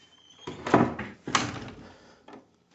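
A window or door in a 1953 brick-front ranch house bangs shut, giving two close wooden knocking thuds in quick succession, then a small, softer knock afterward.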